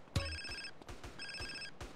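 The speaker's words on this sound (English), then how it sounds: "How do I answer a phone call?" Phone ringing in the video game GTA: two short electronic ringtone bursts, a bright warbling trill repeated twice, quiet and close with faint background game noise.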